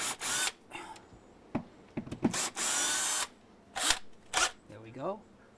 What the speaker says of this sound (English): we're gonna drill some pilot holes